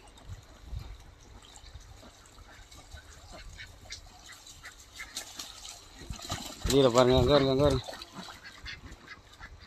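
Ducks splash and quack in water in a garden irrigation channel, with a short burst of loud, close quacking standing out near the end over a low wash of water, and people talking throughout.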